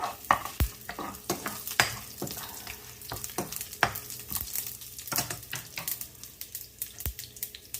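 Garlic and dried red chilies fry in hot oil for a spicy Jaffna rasam, a soft continuous sizzle broken by sharp scraping stirs of a utensil against the pan at irregular intervals, close up with no talking.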